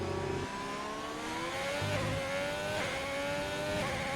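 Race car engines in a sim racing game at the France round, whining at high pitch as they climb through the gears in rising sweeps, several cars blending together at a moderate level with no talk.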